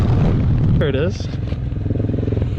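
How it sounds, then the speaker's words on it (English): A supermoto motorcycle engine drones and briefly revs as the rider pops a small wheelie, loud and close, with a burst of voices over the engine noise. "I did a small wheelie."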